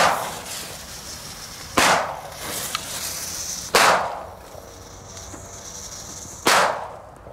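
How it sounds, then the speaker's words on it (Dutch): Three sharp, loud firecracker bangs, tijgertjes set off outdoors, come at irregular intervals, each a crisp crack with a short decaying tail over faint background hiss. No one speaks. "Zijn ook gewone knallers, zoals die andere die we net hadden, die Zeus"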